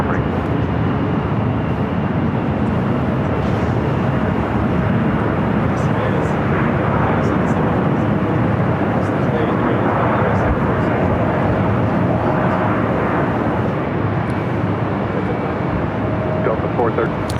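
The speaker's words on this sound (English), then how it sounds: "I believe that is a cargo 747" A cargo Boeing 747 at LAX roars in a continuous broadband rumble, steady and moderately loud for the whole stretch, with people talking now and then over the engine noise.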